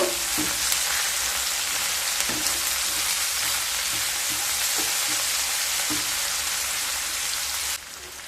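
Three large chopped onions fry in a pan with a constant dense, rain-like sizzle. Occasional spatula knocks and stirs punctuate it, and the sizzle drops away abruptly just before the end. No one speaks.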